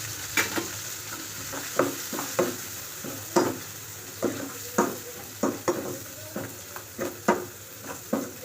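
Garlic-ginger paste and spices frying in a pan for restaurant-style daal mash, a steady sizzle broken by repeated sharp clinks and scrapes of a spoon stirring against the metal, close and fairly loud, with no voices.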